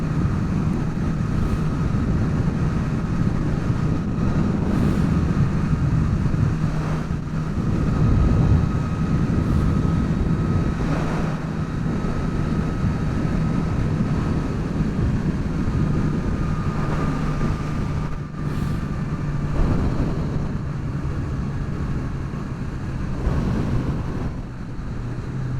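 A 2023 Suzuki Katana motorcycle on the move with its quick shifter, heard as a loud, steady engine drone buried in heavy rushing wind noise, and the pitch shifts slightly as it changes gear.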